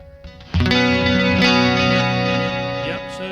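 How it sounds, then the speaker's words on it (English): Electric guitar played through a Boss GT-8 multi-effects unit, with the expression pedal swelling both volume and delay so a sustained chord surges loudly, shimmering with chorus-like echoes before easing back, with no talking. "there's a surge in volume, but there's also a surge in delay amount and effect as well"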